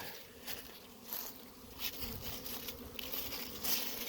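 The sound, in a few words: honeybees flying in and out of hives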